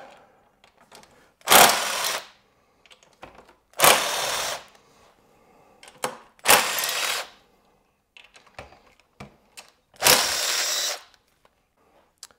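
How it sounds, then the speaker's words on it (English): Bolts are driven out of the rear tank mount of a Yamaha Tenere 700 with a power tool, heard as four short whirring bursts separated by quiet clicks and handling noises. "we can pop these bolts out."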